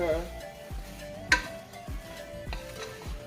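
Shrimp frying in a pan for Thai fried rice with white pepper, a steady sizzle broken by several scraping stirs and one sharp clink of a utensil against the pan, close and moderately loud, no voices.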